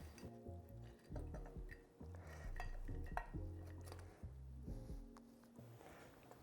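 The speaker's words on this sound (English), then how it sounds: "we'll set the cylinder head on." Metal clinks and clunks as a cylinder head is set onto a Honda CRF450R engine during a top-end rebuild, a series of close, light knocks and scrapes in uneven rhythm.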